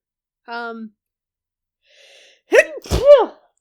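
A brief vocal sound, then a sharp, close sneeze bursts out in a couple of quick gasping pulses.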